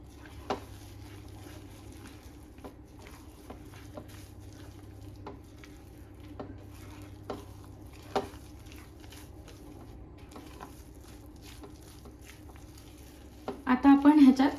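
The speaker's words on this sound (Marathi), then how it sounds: "हे टाकून घेतल्यानंतर आपल्याला थोडंसं परतायचं आहे." Mango pieces are being stirred and sautéed in a pan for mango shira, giving soft, scattered clicks and faint sizzling at a low level, with a louder burst of scraping near the end.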